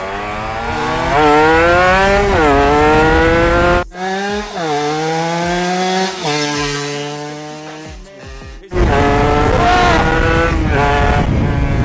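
Yamaha MX King two-stroke motorcycle engine, already running and revved hard up close: a loud, high buzzing that rises and falls repeatedly, briefly cuts out and stutters midway, then climbs loud again.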